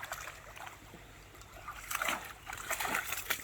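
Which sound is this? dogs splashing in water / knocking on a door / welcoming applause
dogs splashing in water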